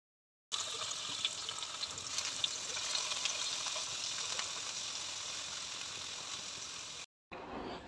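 Spiced water bubbling with rice in a pot for paneer pulao, a steady, fairly loud hiss and fizz of boiling that runs unbroken for several seconds before cutting off.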